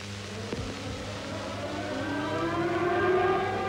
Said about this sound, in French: pour la première fois, le cri des sirènes devient un chant